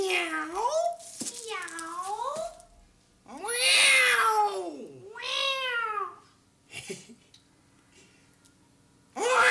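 A cat meows repeatedly, several drawn-out, rising and falling cries close by, separated by short pauses.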